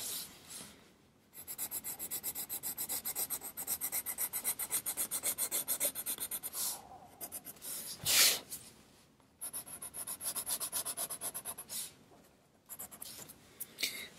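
Colored pencil rubs briskly across paper in rapid back-and-forth strokes, close and steady, with a few brief pauses between bursts of shading for a white highlight on leaves.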